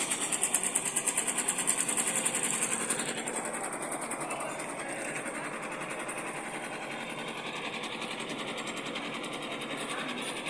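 An embroidery machine runs with its bobbin and needle bars working, a fast even mechanical chatter that is louder for the first few seconds and then settles into a steady whirring rattle.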